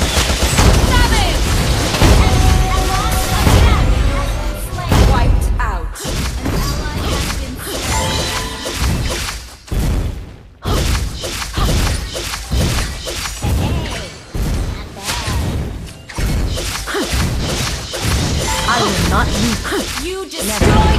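Chaotic Mobile Legends battle audio as a turret is destroyed, with dense booming impacts, rapid bursts of skill effects and crashes layered over game announcer voice lines and music, loud and almost unbroken.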